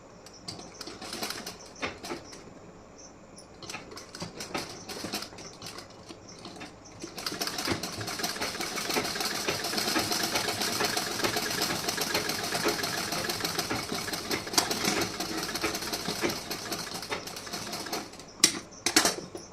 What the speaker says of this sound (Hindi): इस पर मैं सिलाई लगाऊंगी